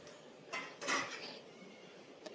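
Metal vessels and pots clank faintly in a neighbour's house, with two or three muffled knocks and rattles against a quiet background.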